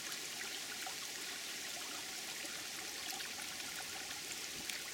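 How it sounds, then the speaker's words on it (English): Spring water welling up out of the ground in a nature preserve, a soft, steady trickling and bubbling hiss, faint and continuous with no voices. "The water's just coming up out of the ground here."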